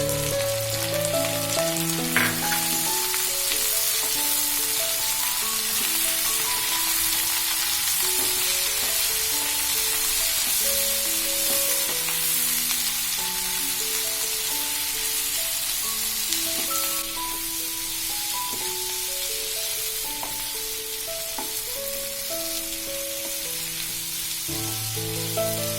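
Green chillies and paneer fry in a pan with turmeric, giving a steady close sizzle with soft stirring scrapes and crackles for the whole stretch and no voices.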